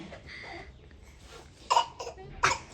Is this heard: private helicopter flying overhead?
no